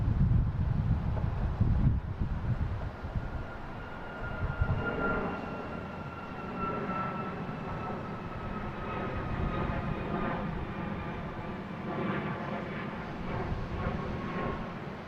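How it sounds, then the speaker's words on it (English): A JetBlue Airbus A320 arriving from JFK lands at Boston Logan International Airport, its broad, steady jet roar rumbling continuously with a faint whine, heard from nearby with wind buffeting the microphone. "next coming in, we have a JetBlue and A320 coming in from JFK"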